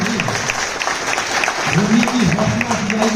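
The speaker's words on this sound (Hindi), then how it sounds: "ताली जोर से बजाइए।" An audience at a school birthday celebration for the chairman claps steadily, a sustained patter of applause while a voice speaks over it in the second half.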